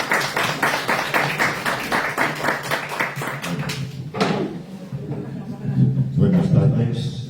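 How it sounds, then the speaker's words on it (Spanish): Audience applause at a lecture in Casaseca de Campeán, distinct claps in a steady patter for about four seconds before fading, followed by a voice starting to talk. "os dejo con ellos y un aplauso"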